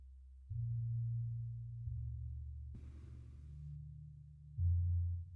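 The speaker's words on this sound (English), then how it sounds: "it almost sounds like they kept the sub bass in this sample" A music sample with heavy sub bass: sustained deep low-end tones hold steady, shift pitch a few times, and swell louder near the end, with a brief brighter burst in the middle and no voices.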